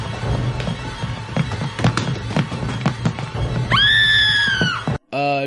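A male TV character lets out a high, girlish scream that holds steady for about a second and a half near the end, loud and piercing, after a stretch of busy thumps and clatter, then a brief shorter cry.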